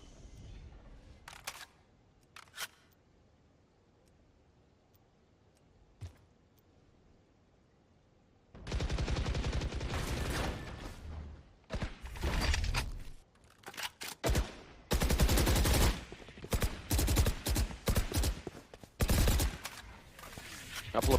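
Rapid gunfire bursts from a player pre-firing through mid in a VALORANT esports grand final, starting after several quiet seconds with a few faint clicks, then loud, repeated shots and sprays in clusters with brief pauses between.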